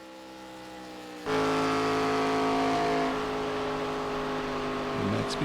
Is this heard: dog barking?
no